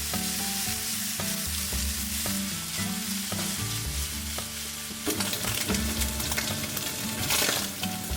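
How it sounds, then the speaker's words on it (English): Bacon or pancetta fries in olive oil in a pan, giving a loud, continuous sizzle and crackle with occasional stirring clinks, and no one talking. "then we're going to add our bacon or pancetta and cook it until it's"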